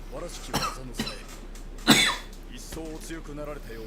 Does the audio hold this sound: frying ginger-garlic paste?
no